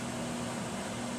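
A microwave oven runs in a home kitchen, melting cheese for a Rotel dip. Its steady, even hum and whir fills the whole moment without a break, and no one speaks over it.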